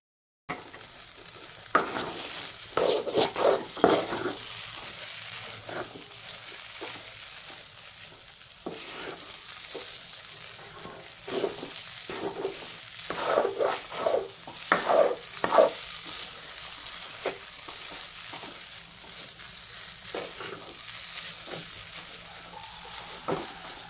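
Semolina roasts in ghee in a pan for sheera, a soft continuous sizzle under repeated scraping strokes of a spoon that come in irregular bursts, close and without talk.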